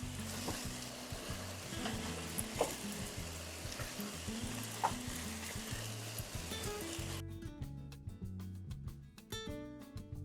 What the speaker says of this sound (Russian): Если хотите, чтобы котлетки больше подрумянились, можно их пару раз перевернуть туда-сюда.